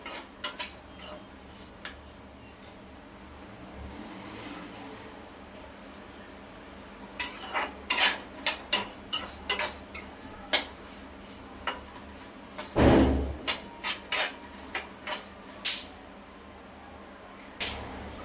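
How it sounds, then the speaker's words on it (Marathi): Sesame seeds roasting in a pan for mukhwas, giving off scattered sharp crackles and ticks that grow denser in the second half over faint background hiss, with one louder scrape near the end. "तिळे सुद्धा छान भाजून झाले कलर सुद्धा चेंज झालाय आणि ते चिटचिटू लागले"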